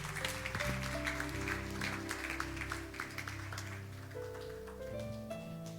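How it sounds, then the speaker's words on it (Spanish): A church congregation applauds, with dense, steady clapping over sustained organ or keyboard music, moderately loud and continuous throughout. "Dele un fuerte aplauso a Jesús"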